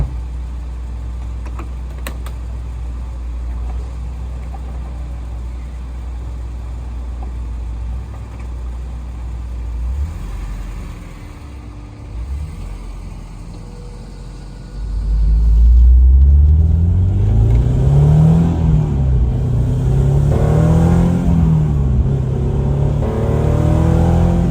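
A Honda S2000 with a titanium twin-loop exhaust idles with a deep, low burble, then the engine revs up hard several times, rising and falling in loud, rasping bursts.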